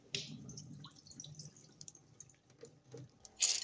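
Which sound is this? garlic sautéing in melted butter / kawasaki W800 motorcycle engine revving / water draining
water draining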